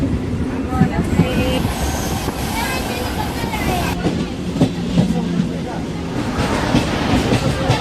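A MEMU express train pulling out of Moolanur station and running on, with a steady broad rumble and rail clatter close by and voices talking over it throughout.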